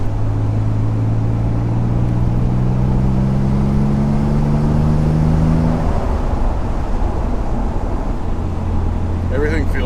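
Inside a rebuilt barn-find Nissan 300ZX twin turbo on its first drive, the engine and exhaust drone steadily under road noise, with a low tone rising gently in pitch before settling lower; people talk over it.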